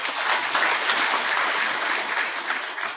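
Audience applause at an academic oration during an open ceremonial session of an Islamic institute, a steady, dense wash of clapping that holds at an even loudness for about three seconds, with no voices over it.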